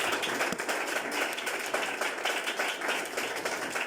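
Congregation in a church applauding together, a steady dense wash of many hands clapping with scattered sharper claps throughout, loud and continuous.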